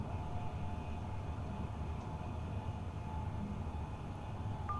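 Class 745 FLIRT electric train running on the Fen Line in Train Simulator, a steady low rumble and hum with faint tonal whine, constant and unbroken throughout with no voices.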